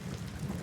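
Continuous rainfall with low rolling thunder underneath on a stormy night, an even, sustained wash of sound across a brief moment.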